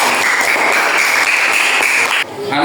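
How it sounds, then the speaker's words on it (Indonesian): Loud, steady applause from a classroom audience for children's poster artwork, dense clapping sustained throughout before cutting off near the end. "Kasih aplaus untuk karya"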